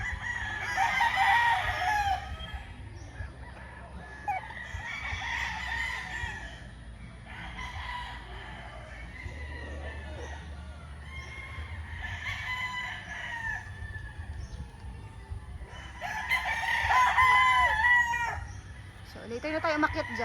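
White Kelso chickens and roosters in flying pens on a farm, several loud crows repeating every few seconds, with clucking and a low hum between them.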